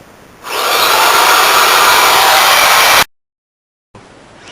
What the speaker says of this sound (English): But clearly we need some power tools.